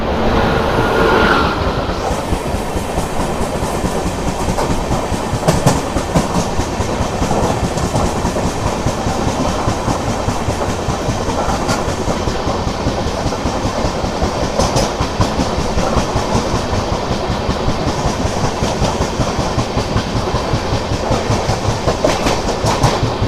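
The Intercity SF Express from Vijayawada to Lingampalli runs on the rails with a loud, steady rumble and a continuous rhythmic clickety-clack from inside the carriage. No voices are heard.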